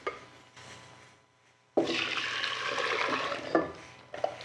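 Thick pastry cream pours from a bowl back into a cooking pot, making a wet, sloshing rush that runs for a couple of seconds in a quiet kitchen, then trails off with a few soft splats.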